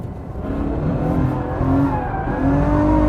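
A Ferrari accelerates hard in fourth gear through a left-hand bend, its engine roaring loud and rising in pitch, heard up close with tyre and road noise underneath.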